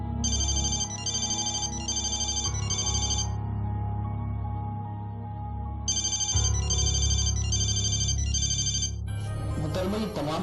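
A phone ringtone rings unanswered in a Pakistani TV drama scene, with repeated bursts of electronic chirping tones, a pause, then another series, over a steady music bed.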